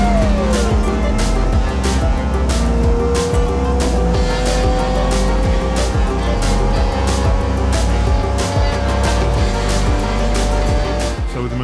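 A boat's Mercruiser 350 Mag stern drive engine runs steadily at trolling speed of about 1500 RPM, a loud continuous low drone with constant rhythmic pulsing throughout.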